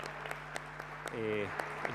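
An audience at a Chamber of Deputies event on higher education reform gives scattered, faint hand claps, with a brief voice-like tone partway through.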